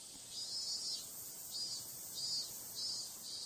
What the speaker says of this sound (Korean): 예나 지금이나 변함없는 우렁찬 매미울음입니다.